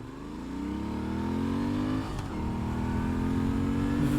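A 2016 Moto Guzzi V7II Stornello accelerating along a city street, its engine note climbing steadily in pitch, dipping briefly at a gear change around the midpoint, then rising again, loud and close from the rider's position.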